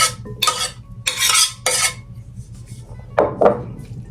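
Broccoli from a 12-ounce bag of steamable florets being stirred into rice in a casserole dish for a broccoli cheese and rice bake, a utensil scraping the dish in several short bursts, fairly close, with no talking.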